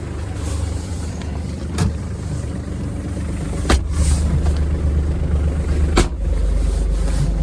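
A Kubota KT-24 mini tractor engine warms up, a steady low diesel rumble close by, broken by a few sharp clicks or knocks.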